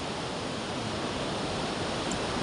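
Large ocean waves breaking on a beach produce a dense, continuous roar of broadband surf noise, steady and moderately loud with no voices.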